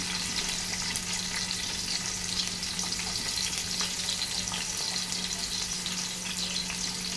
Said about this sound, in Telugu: ఆయిల్ హీట్ ఎక్కింది కదండి. ఇప్పుడు మనం కొంచెం ఉల్లిపాయ ముక్కలు వేసుకుంటున్నాం.